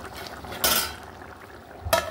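A pot lid is set over simmering potato and broad bean curry, giving two brief clinks, one early and one near the end, with a faint kitchen hum in between and no talk.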